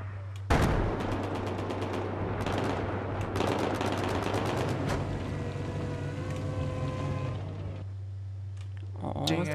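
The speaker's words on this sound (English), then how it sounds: "That's an MG." Rapid bursts of machine gun fire ring out in a Battlefield 4 multiplayer match, loud and close, mixed with other gunshots, a steady low engine drone and someone talking over the action.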